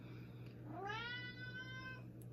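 A single drawn-out cat meow rises and then holds, close by but fairly soft, over a quiet steady hum.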